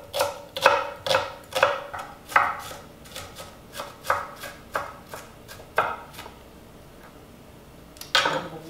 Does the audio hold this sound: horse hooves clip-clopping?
no